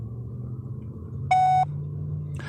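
Single electronic voicemail tone after a recorded greeting, one steady beep lasting about a third of a second over low background rumble, followed by a faint click.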